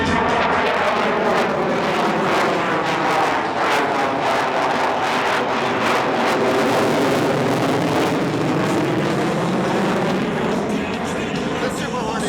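A Navy F/A-18F Super Hornet jet maneuvering at the Bremerton Air Show roars loudly overhead, a sustained jet engine rush with sweeping pitch shifts as it passes, plus some wind buffeting.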